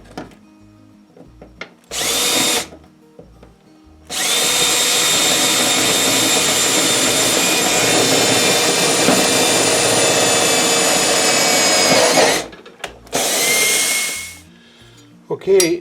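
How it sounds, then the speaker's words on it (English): A power drill bores a hole for a backup monitor bracket, with a short burst, then a long sustained whining run, followed by two brief bursts and quiet gaps between. "now that I have that hole drilled"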